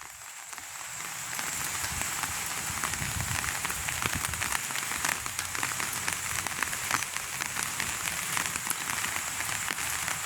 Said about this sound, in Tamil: மழையும் வந்து இப்போ விடுற மாதிரி இல்லை